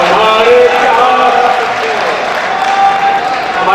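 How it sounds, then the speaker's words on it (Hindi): An audience at an all-India poetry gathering claps in a steady, dense burst that lasts the whole stretch, with crowd murmur and voices mixed in. "हमारे तो बुजुर्ग की ताली बजा रहे हैं"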